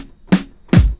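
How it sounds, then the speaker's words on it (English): Two hits of a fat, layered snare drum sample built from two snares stacked together for a hip-hop beat, each crack ringing with a deep low body, struck about half a second apart, loud and alone. "I had to layer two. Together they sound like this."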